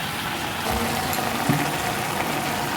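Water pours steadily into a cooking pan holding pui shak greens, stems and taro, making a continuous close, rushing hiss with no voices.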